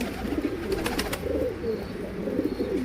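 A rescued pigeon coos repeatedly in a coop, soft low rolling calls coming in a steady rhythm, close and fairly quiet, with a few faint background sounds.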